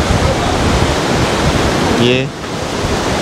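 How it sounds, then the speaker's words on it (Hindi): Roaring water of the Argun river in Chechnya, a loud, dense rush blended with strong gusting wind buffeting the microphone, with a brief spoken word near the end. "यहाँ शोर इतना है पानी का कि मुझे माइक करीब पकड़ना पड़ रहा है।"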